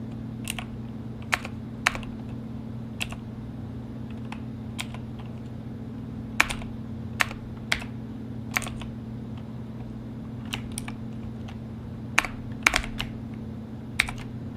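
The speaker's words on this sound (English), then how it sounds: "I'm trying to type the code for the new ChargerPay clone." Fast typing on a computer keyboard in a quiet room, sharp irregular clicks in short bursts over a steady low fan-like hum, with no talking.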